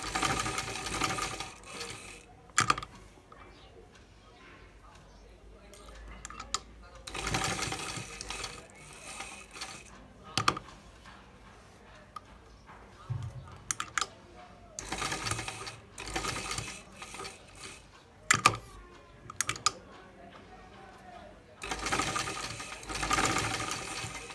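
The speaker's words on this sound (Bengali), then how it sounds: "এই পট্টির একেবারে সাইডে কিন্তু সেলাইটা করছি।" A sewing machine stitches the hook-and-eye strip of a blouse, running in repeated bursts of fast mechanical clatter separated by quieter pauses, close by.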